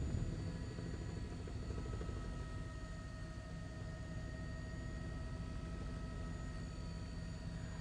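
SkyFOX news helicopter flying over the New York area, heard as a steady, loud rotor and engine drone with a faint whine, constant throughout without talk.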